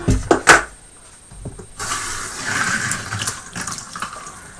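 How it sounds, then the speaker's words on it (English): Running water rinses out the canister tub of an Eheim 2213 aquarium filter, opening with a few close knocks and clatters before a steady, rushing tap-water flow fills the rest, loud and near. "So I'll just go ahead and rinse out this area."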